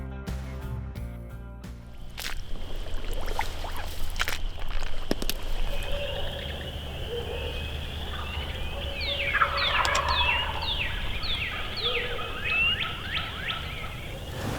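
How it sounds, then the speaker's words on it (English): Wild turkey hens yelp in short repeated series at a distance along a creek bottom during spring turkey hunting, with a few sharp knocks and rustles nearby and steady outdoor ambience. "I can hear hens down along the creek bottom."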